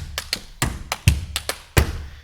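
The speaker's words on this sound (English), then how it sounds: "If I click in this first slot and I turn on, say, a flanger, you'll hear a nice little flanger sound" Body percussion mix with a flanger effect: close slaps, taps and thumps in an uneven rhythm, each hit trailing a swept, whooshing shimmer.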